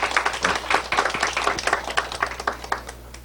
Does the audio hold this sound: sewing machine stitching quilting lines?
no